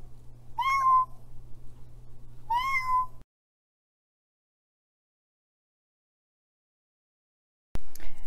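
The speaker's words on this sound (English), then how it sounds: "My cat Micah is currently crying and being very needy" A cat cries out with two drawn-out, rising-falling meows a couple of seconds apart over a low steady hum, followed by a long silence and an abrupt burst of noise at the end.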